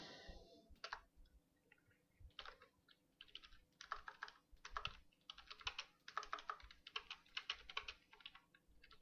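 Computer keyboard typing, close and crisp, in quick irregular bursts of clicking keystrokes with short pauses between them, alone and with no talking.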